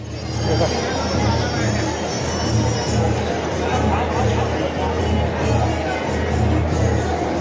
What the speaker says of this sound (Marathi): गर्दी खूप आहे मित्रांनो